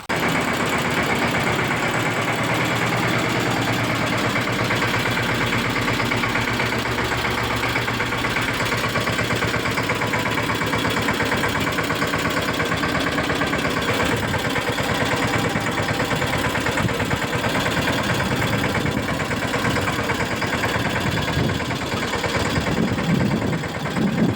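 A tractor engine idles close by, a steady, loud mechanical chug with an even low rumble that holds unchanged for the full stretch, with no voices over it.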